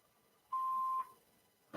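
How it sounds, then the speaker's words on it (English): A voicemail answering machine sounds a single steady electronic beep lasting about half a second, clear and alone in near silence, followed by a brief click. "After the tone, please leave your name, phone number, voice message."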